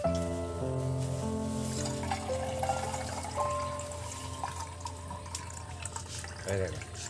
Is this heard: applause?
no